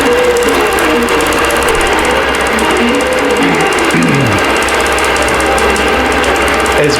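A sewing machine stitches across a quilt with a loud, continuous mechanical whir and a rapid needle rhythm that does not break. Shifting motor tones rise and fall under the stitching, and no voices are heard.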